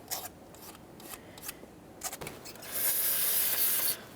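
Old gasket material being scraped off the upper intake plenum of a 2011-2020 Toyota Sienna 3.5L V6, a series of short dry scraping strokes followed by a longer, louder rasping scrape, close up with no talking.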